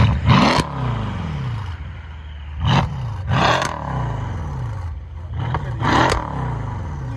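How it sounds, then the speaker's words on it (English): Twin-turbo 5.5L V8 in a 2017 Mercedes CLS 63 S with a full aftermarket exhaust, revved repeatedly in close, loud bursts that rise and fall, with turbo whoosh and rumble between blips. "You can hear the turbo spooling up."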